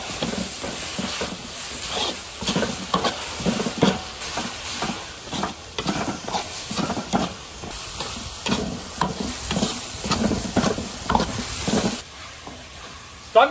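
Green chili peppers and lean pork stir-fried in an iron wok for spicy chili pork, with steady sizzling and repeated spatula scrapes and stirs in a close, continuous rhythm, with no talking.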